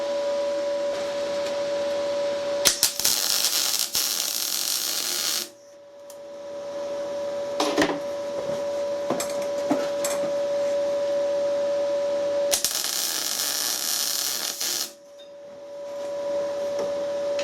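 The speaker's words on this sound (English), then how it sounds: "MIG's ideal for this because it's nice and quick and it doesn't mind welding a little bit of galvanised metal or a little bit of rust." MIG welding nuts onto galvanised, slightly rusty metal: two sustained crackling, hissing bursts of several seconds each, with a steady tonal hum and scattered clicks between them.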